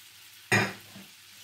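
Chopped garlic hitting a little olive oil in a hot pan gives one short, loud sizzling burst that quickly fades into a quiet kitchen.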